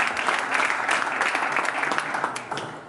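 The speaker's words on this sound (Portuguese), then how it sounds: "Um aplauso para vocês, que são enormes." A crowd at an election-night party event applauds the party's staff and workers, a continuous burst of many people clapping at moderate loudness throughout.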